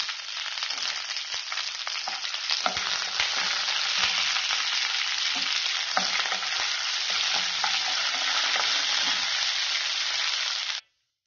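Three dried red chillies, curry leaves and a little tamarind fry in oil for a no-onion tomato chutney. A loud, continuous sizzle with crackling pops runs close up and then cuts off abruptly near the end, with no voices.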